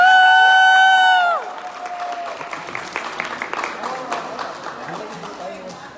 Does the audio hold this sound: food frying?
no